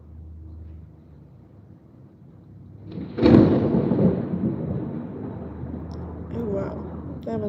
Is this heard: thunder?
yes